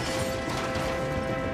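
A toy engine crashing off the track in a model railway scene, a dense, loud clattering crash and mechanical rattle filling the short moment without any voices.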